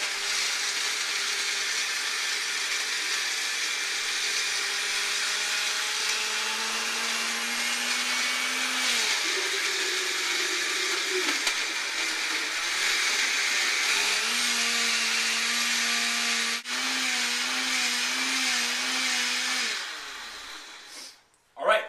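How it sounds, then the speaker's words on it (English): A blender whirs steadily through a dairy-free post-workout smoothie with banana added, a loud continuous motor drone that shifts pitch as the load changes, with a person speaking over it before it stops abruptly at the end. "So it's getting all blended up."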